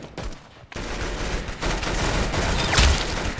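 Gunfire in the Roblox game Arsenal: dense, continuous rapid-fire shooting with overlapping bursts and a few louder blasts, loud and busy throughout with no pause.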